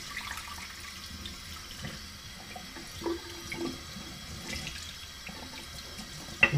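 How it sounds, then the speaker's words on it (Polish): A shaving brush rinsed under a running bathroom tap, a faint steady trickle of water with small splashes and drips, quiet and without talk. "Ja tymczasem myję pędzel."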